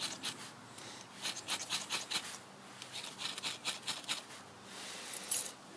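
A ferro rod is scraped in a series of quick, bright rasping strokes at close range, coming in irregular bursts over several seconds, with no one talking.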